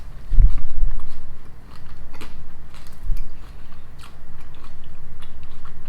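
Pink bubble gum being chewed close to the mouth, soft wet smacking and biting sounds repeating steadily with no talk over them.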